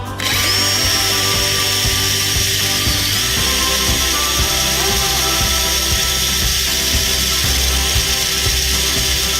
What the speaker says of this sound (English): The drill's just freely going around. You can see it's just starting to bite in and start to dig the hole.